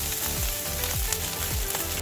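Fried rice with petai beans and pineapple sizzles loudly in a hot pan, with a steady crackling fry and a few scraping stir strokes, close up and continuous with no talk.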